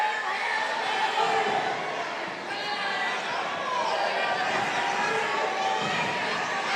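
A boxing crowd roars and yells during a bout, a dense, continuous swell of cheering and shouting from many voices, loud and unbroken.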